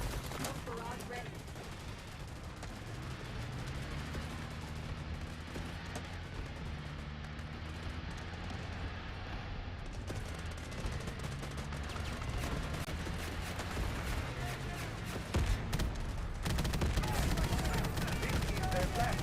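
An artillery barrage in the BGMI battle royale game, heard as continuous heavy booming and rapid gunfire under steady commentary. The noise stays dense and loud throughout and swells again toward the end.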